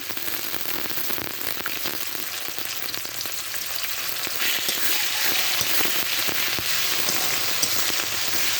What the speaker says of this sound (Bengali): এবার আমি দুই থেকে তিন মিনিট নেড়ে ছেড়ে ভেজে নেবো